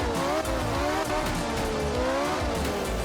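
A rally car in Art of Rally revs and slides across grass, its engine note rising and falling with tire squeal and skidding throughout, loud and close with no voices.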